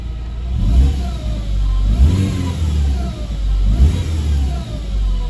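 An Alfa Romeo GT engine revs up twice close by, with a whining, grinding undertone from a failing pulley or bearing beneath the rising and falling roar.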